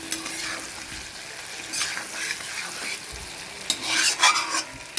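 Pointed gourd frying with a mustard and poppy seed paste in a pan, stirred now and then; a soft continuous sizzle with scraping stir strokes that grow louder near the end, with no talking.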